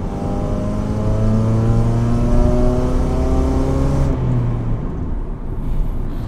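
A Mitsubishi Xpander petrol engine held at full throttle, loud and close, with a rough, diesel-like drone whose tone climbs steadily before the throttle is released and it falls away.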